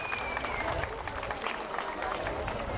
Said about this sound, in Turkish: Alkışlar Şerife Boduz için olsun.